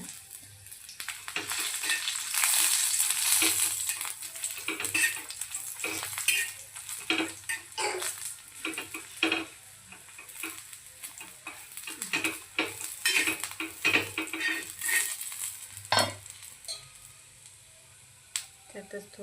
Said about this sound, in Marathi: थोड़स तेल टाकन त्यामध्ये आपण मिरच्या भाजून